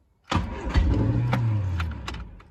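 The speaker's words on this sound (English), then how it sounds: "I'm going to start it from cold" A 1978 Triumph Spitfire 1500 engine starts from cold with the choke out, cranking briefly and catching, then running loudly and unevenly before settling lower and fading slightly.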